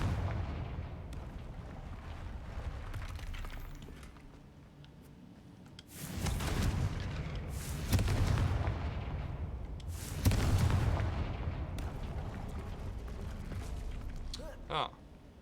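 Fire spell explosions in the Hogwarts Legacy video game, three loud broadband bursts arriving about two seconds apart over a steady game soundscape, with a brief sharp blip near the end.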